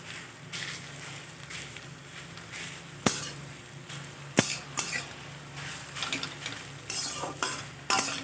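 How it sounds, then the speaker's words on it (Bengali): Prawn and taro leaf curry seasoned with garam masala is stirred in a pan: sizzling under repeated spoon scrapes and sharp clanks against the metal, close and irregular, with no talking. "সামান্য একটুখানি গরম মশলা গুঁড়ো দিয়ে দিলাম, দিয়ে নেড়ে চেড়ে এই ব্যাস এবার নামিয়ে দেব।"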